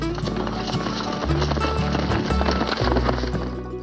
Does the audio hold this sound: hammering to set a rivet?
no